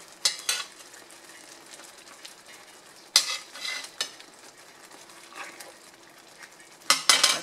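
Salisbury steak patties cooking in a pan give a faint, steady sizzle, broken by a few sharp clinks and scrapes of a utensil against the pan, heard close with no voices.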